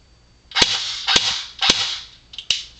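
Classic Army M15A4 airsoft gun, 2009 model with a 9.6 battery, firing semi-auto: five sharp snapping shots, the first three evenly spaced, then two closer together, each crisp and close with a short mechanical tail.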